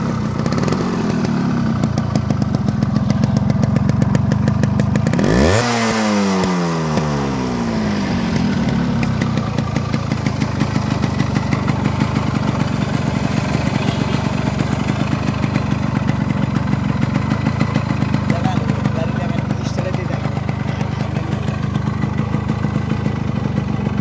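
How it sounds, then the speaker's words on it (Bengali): A Yamaha RXS 115 motorcycle in original Japanese condition runs close by with a steady, throaty engine note, then a quick rev swells and falls around the fifth second before it settles back to a even idle. "আপনাদেরকে ইঞ্জিনের সাউন্ড শোনানো হচ্ছে।"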